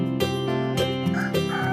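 A rooster crows in a short, sharp burst of harmonic calls with clucky breaks, close and clear over a steady background, in a small village at dawn.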